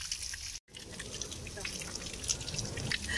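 Water trickles and drips steadily from a stream or spring as it is collected on a hike between Tai Mo Shan and Ng Tung Chai in Hong Kong, a close continuous splashing with faint talk underneath.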